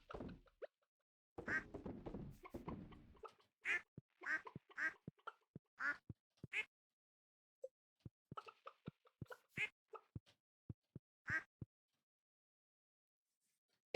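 Ducks quack in the video game Stardew Valley Expanded, a series of short, distinct quacks spaced irregularly, mixed with soft thunks and brief clicks against near silence.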